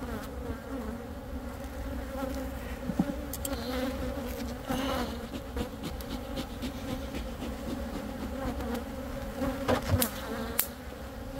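Dense, steady buzzing of many honeybees close by at a heavily propolized, crowded hive, a constant droning hum with occasional louder passes of individual bees near the listener.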